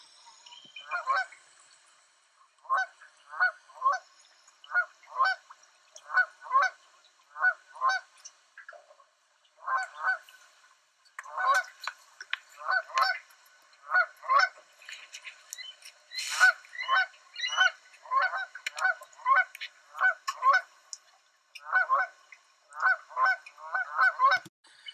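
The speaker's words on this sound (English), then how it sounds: "In the background, you can hear Canada geese." Canada geese honking over and over in quick paired calls, fairly close and loud, with brief pauses between bursts.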